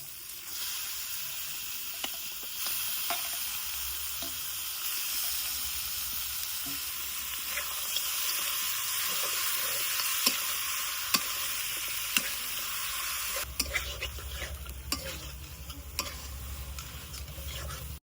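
Duck meat hits a pan of ground spice masala and sizzles in a constant soft hiss, with scattered light clicks of stirring and a louder sizzling surge toward the end.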